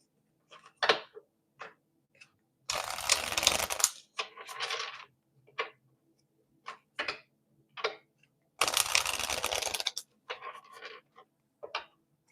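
Tarot cards are shuffled by hand in two long riffling bursts, with soft taps and snaps of the deck between them in an otherwise quiet room.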